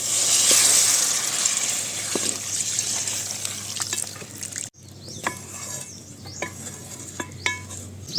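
Water going into simmering village-style chicken curry in a pot brings a loud hiss and sizzle that drops off sharply. Bubbling and scattered clinks of a utensil against the pot follow, with no voices.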